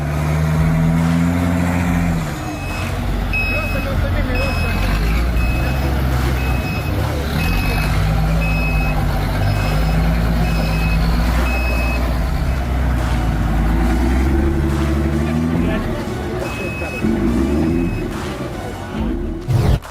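An East German EFA W50 off-road truck grinds along a muddy course, its engine revving and labouring in swells, with regular reversing beeps sounding through the loud, close rumble.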